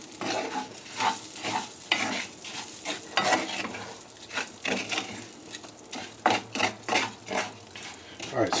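Rice and orzo pasta stirred constantly in a hot pan, a steady scraping shuffle of grains over a soft sizzle, with repeated louder strokes of the spoon against the pan.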